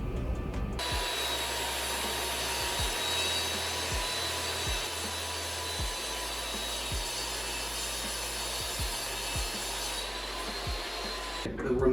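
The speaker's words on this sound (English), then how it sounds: "we're ready to take it to the table saw, and we'll cut that second piece at 1 3/8 wide" A table saw rips a piece of wood stock to width, giving a loud, steady whine of blade and motor that runs almost unbroken from start to finish, with no talking.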